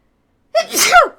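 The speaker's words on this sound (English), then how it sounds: "And I'm going to sneeze." A single loud, close sneeze: a sharp intake followed by a forceful burst, with no one talking.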